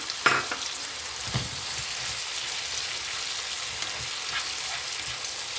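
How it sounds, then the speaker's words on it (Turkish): Chopped tomatoes frying in a pan for an iftar dish, a steady close sizzle with a few scraping stirs of a utensil against the pan near the start and middle. "Domateslerim de böyle kavrulana kadar yani sinene kadar bir 5 dakikada domateslerle birlikte kavuracağım."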